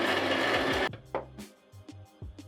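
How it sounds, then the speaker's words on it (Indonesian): A Solis Scala 166 coffee grinder set to 13 grinds coffee beans with a loud, dense whir for just under a second before it stops, followed by faint scattered clicks and rattles. "langsung aja kita giling yang untuk nomor"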